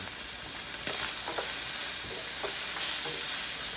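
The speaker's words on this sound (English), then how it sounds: "let's start it off by browning our meat" Meat browning in a hot pan gives a steady, fairly loud hiss of sizzling fat, with a few soft stirring scrapes now and then. No voices.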